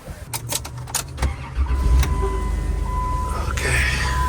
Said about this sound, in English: There's a big truck out there too.